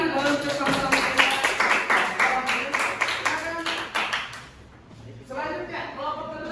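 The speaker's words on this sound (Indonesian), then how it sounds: "tepuk tangan untuk sama-sama kita" A class group in an aqidah lesson claps together in brisk, fairly rhythmic beats for several seconds, then the clapping fades and voices carry on.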